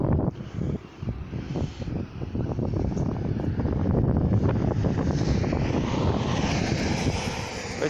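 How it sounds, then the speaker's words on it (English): Strong wind buffets a microphone outdoors, a loud continuous roaring rumble with gusty surges that build and stay heavy throughout. "Still super windy"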